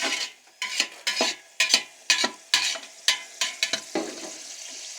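Pulao spices and tomatoes stirred in a hot pot, a spoon scraping in a steady run of about a dozen close, loud strokes over a soft frying sizzle.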